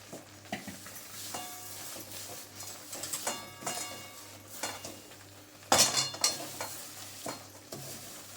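Spoon stirring ghee-fried avalakki (poha) in a pan with soft scraping and gentle sizzling, steady close-up mixing punctuated by occasional clinks of metal against the pan.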